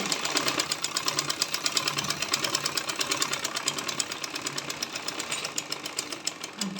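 A sewing machine stitches a folded side seam on panties, with a fast, even mechanical chatter that continues close by without a break.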